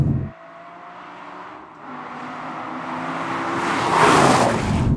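A carbon-fibre-kitted Aston Martin V12 Vantage is driven. Its engine note drops off sharply near the start, then builds steadily into a louder, rising roar with road and wind noise, and no voices.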